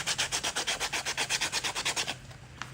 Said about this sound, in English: here I go with the sanding the bottom